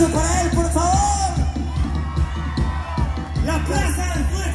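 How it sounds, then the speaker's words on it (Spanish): A crowd at a town fiesta in San Juan Cosala, Jalisco, cheers, whoops and yells for a trumpet player, loud and continuous throughout, with a dense layer of shouting voices. "Un aplauso para él, por favor"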